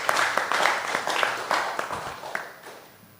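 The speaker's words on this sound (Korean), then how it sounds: "찬양 받으시기에 합당하신 우리 하나님께 감사와 영광의 박수 올리겠습니다" Church congregation applauding together during a worship service, a steady dense clatter of many hands with a few sharper claps, fading slightly toward the end.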